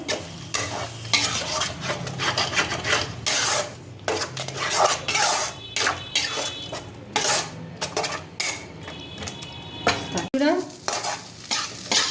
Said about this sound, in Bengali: দিয়ে এবার পুরটাকে সুন্দর করে নাড়াচাড়া করে নিতে হবে